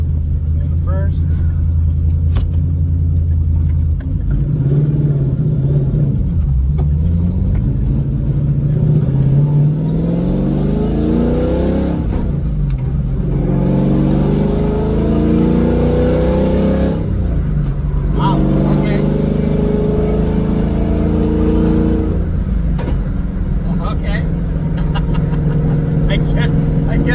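A Ford GT500 with a swapped-in Coyote V8 and T56 manual gearbox revs loudly and climbs through high-rpm gear shifts, each rising pull broken by brief drops in pitch. Engine noise fills the whole stretch, and someone talks over it.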